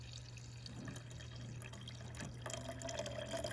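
Coffee pours into an enema bucket: a quiet, liquid trickle and splash with small drips, fairly close and low in level, brightening slightly toward the end.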